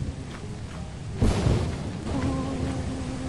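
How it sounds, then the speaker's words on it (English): Thunder rumbling through a stormy night in the horror game Lethal Company, a broad low crack swelling around the middle then fading into a steady rain-like wash. "that's a little thunder"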